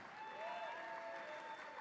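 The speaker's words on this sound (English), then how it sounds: "Give them a round of applause as well, led by Chairwoman Amy Chapman." Brief burst of audience applause at a broadcasters' hall of fame gala, faint and steady clapping from a crowd in a large room, with a tonal hum beneath.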